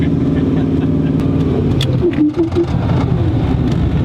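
A Jeep Comanche engine revs hard on a dynamometer, climbing to its 6,500 rpm rev limiter, with a steady loud drone and a brief dip midway, and a voice speaks beneath it.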